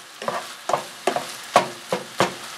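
Lean sausage cooking in a pan for keto holiday stuffing, heard as six distinct stirring scrapes and soft sizzling bursts at a steady rhythm, close and moderately loud with no talk.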